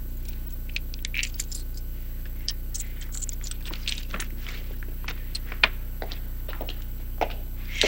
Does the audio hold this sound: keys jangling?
yes